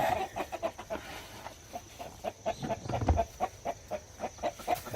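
Chickens cluck in a steady, rapid rhythm nearby in a rural coop in Daegwallyeong, South Korea, soft repeated clucks with no talking.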